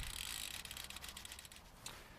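Rapid ticking of a bicycle freewheel as the pedals turn backwards during a bike clean, a dense ratcheting click train that is close and fairly loud, easing slightly toward the end.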